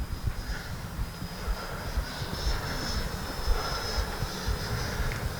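Freewing F-16 70mm RC jet making a low pass with its landing gear down, a steady whooshing ducted-fan whine at moderate distance, heard outdoors amid broadband noise with no talking.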